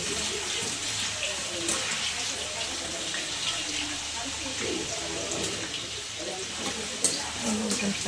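Potato french fries frying in hot oil, a steady dense sizzle and crackle that holds throughout at a moderate level with occasional sharper pops.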